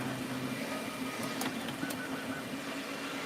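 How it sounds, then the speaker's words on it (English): 3D printer printing a Gridfinity ring holder, heard up close as a steady motor whine and hum with a few faint ticks, no talk. "It's pretty crazy how a 3D printer works."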